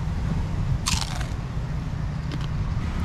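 A crunchy fried snack filled with potatoes and topped with guacamole and salsa is bitten into, giving a short crisp crunch and a few softer follow-up crackles, close over a steady background hum.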